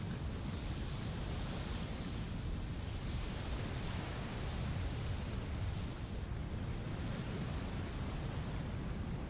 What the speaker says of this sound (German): Das Wasser ist bis zum Rand des Ablaufkanals gestiegen.